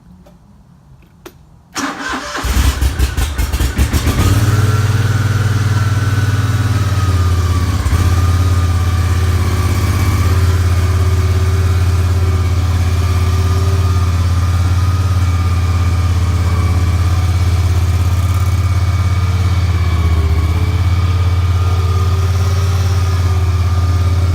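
A Badboy Outlaw XP off-road vehicle engine cranks with throttle and choke, catches after about two seconds, then settles into a loud, steady, close running drone that holds throughout with no talk.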